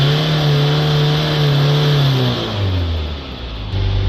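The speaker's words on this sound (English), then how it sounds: "We're going to give it a few revs." A Ford Transit Custom 2.2 Euro 5 diesel van engine is revved and held at steady high revs, then drops and rises again, loud and close with no talk.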